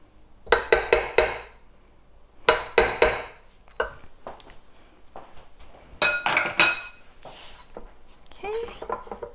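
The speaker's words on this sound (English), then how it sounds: "Scrape out all the dough." Cookie dough for ginger chai spice cookies scraped out of a bowl, bursts of bright clinking and scraping of a utensil against the bowl in quick clusters, close, with a voice talking in between.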